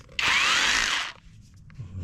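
A cordless OSUKA three-mode rotary drill whirs at full trigger, a loud, steady, high-pitched motor burst of about one second that then cuts off, leaving faint room noise.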